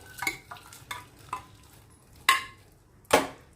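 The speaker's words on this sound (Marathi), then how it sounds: "आता ही डाळ मी एका पॅन मध्ये काढून घेते" Cooked dal is scooped into a pan with a spoon, giving a few soft scrapes followed by two sharper clinks of metal against the pan, each one brief and close, with quiet gaps between them and no talk.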